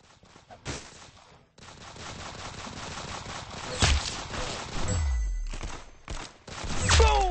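Pistol gunfire in the Roblox game Arsenal, with bursts of shots and impacts layered over busy game sound effects, loud and close, with a brief drop to near silence early on.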